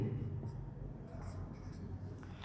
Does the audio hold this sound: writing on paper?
yes